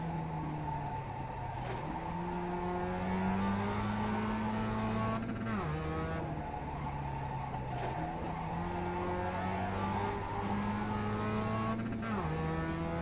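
A Mazda MX-5 race car in the iRacing video game laps Okayama, its engine droning and rising through the gears with repeated upshift drops. Tires squeal at times through the corners, loud and steady, with no talk over it.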